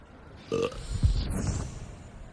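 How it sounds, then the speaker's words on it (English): A character in Hogwarts Legacy lets out a single short, close burp, followed by a low rumbling grunt-like tail, with no one speaking. "why do I keep burping?"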